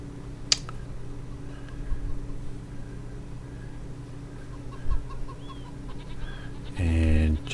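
Chickens cluck and chirp faintly and on and off in the background, with a brief louder muffled burst of noise just before the end.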